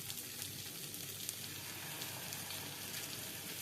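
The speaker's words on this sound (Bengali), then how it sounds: "এবার উপরটাতে সয়া সস ঢেলে দেবো।" Soy sauce poured over chilli chicken frying in a pan, giving a steady, dense sizzle and crackle that stays even and close throughout with no talking.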